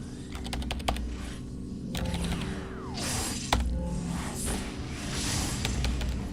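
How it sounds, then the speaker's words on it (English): Rapid typing on a computer keyboard, with dense irregular key clicks and occasional louder strokes, heard close up and on its own without talk. "this is me typing, my voice as I type"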